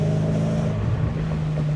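A supercharged 630 bhp Audi RS4 Avant with an upgraded clutch pulls hard in third gear, giving a loud, steady engine drone with a rising tone heard from inside the car, mixed with wind noise.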